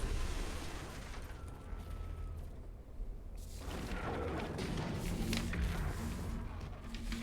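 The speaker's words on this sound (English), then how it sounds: "Just the booming sounds in this room are terrifying." Booming explosion sound effects played in a room during a Star Trek tabletop session: a dense, heavy rumble that drops back, then swells again into continued loud roaring blasts and crackle.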